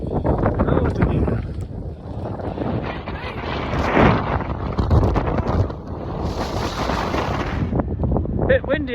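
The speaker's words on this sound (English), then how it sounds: "Bit windy again today." Strong wind buffets the microphone in heavy gusts on a mountain, rumbling and roaring, with a voice speaking intermittently beneath it.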